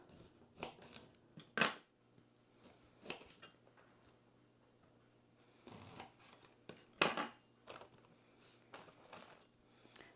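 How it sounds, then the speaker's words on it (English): A kitchen knife cuts a pound of Brussels sprouts, trimming the ends and halving them on a board. Sharp, separate chops and clacks come at irregular intervals against a quiet room, with no talking. "we're going to cut the Brussels sprouts"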